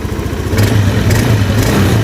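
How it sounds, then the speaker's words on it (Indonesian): A Honda Beat scooter engine, started after a carbon cleaner treatment and running with a little smoke, idles loud and close with a rough, pulsing, clattery beat. "Nah, yang penting ini motor udah hidup."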